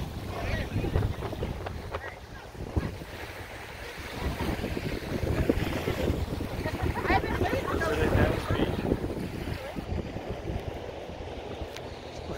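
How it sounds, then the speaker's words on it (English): Strong wind gusting beside the Columbia River near a roadside campground, a steady loud roar and buffeting on the microphone that runs through the whole stretch, with someone talking at times. "The wind is blowing pretty good."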